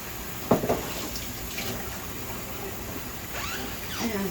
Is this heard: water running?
yes